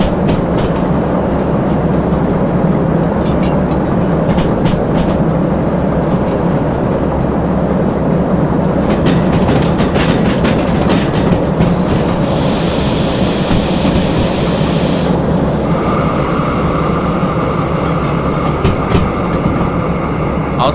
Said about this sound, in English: There are speed limits on these tracks for a reason.